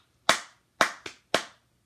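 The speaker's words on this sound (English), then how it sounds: "I'll just start doing a clap and a pat on my lap" Four sharp hand claps or lap pats land in an uneven rhythm, two spaced hits then a quick pair, each crisp and close with a short decay in a quiet room.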